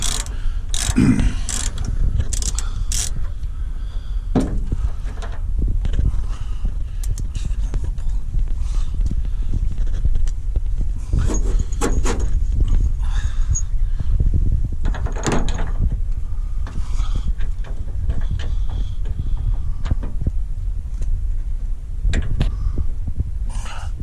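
Hand tools working on the propeller shaft bolts of a 1944 GMC DUKW, with irregular metallic clanks, taps and ratcheting clicks over a constant low rumble, close by and fairly loud throughout.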